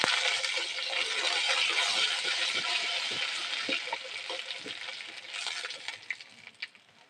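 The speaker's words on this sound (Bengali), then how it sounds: "সর্ষেকে দিয়ে একটুখানি এরকম ভেজে দেবে" Black mustard seeds frying in a pan for an Indian potato dal tempering: a dense oily sizzle that gradually fades, giving way to scattered sharp pops and crackles near the end, with no talking.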